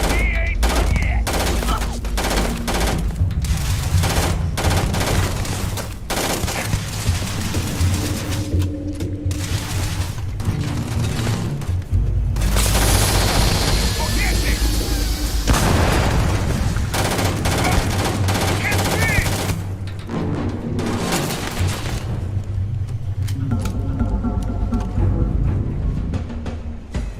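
Sustained gunfire and explosions fill a Starfield firefight, with dense bursts and booms running continuously at close range, and brief shouted voices surfacing now and then under the shooting.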